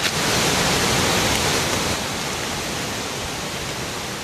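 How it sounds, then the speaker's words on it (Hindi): Fast-flowing floodwater rushes through Dharali after a cloudburst in Uttarakhand, a dense, loud, continuous roar of torrential water that eases slightly midway. "देख सकते हैं धराली में अब भी पानी किस तेजी से बह रहा है"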